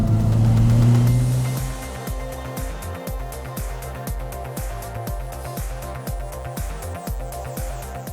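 A 2024 Hyundai i30 Sedan N driving on the road, a loud engine note that starts with a strong low drone and settles into a steady hum, with rhythmic low thumps from the road surface.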